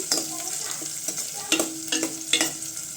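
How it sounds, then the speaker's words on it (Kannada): Onions fry in oil in a pan for an eggplant gravy, giving a steady close sizzle with several crisp stirring scrapes against the pan, no voices. "ಅರ್ಧ ಹಸಿ ಈರುಳ್ಳಿಯನ್ನು ಹಾಕೊಳ್ತಾ ಇದ್ದೀನಿ ನಾನು ಇದನ್ನು ಚೆನ್ನಾಗಿ ಫ್ರೈ ಮಾಡಬೇಕು"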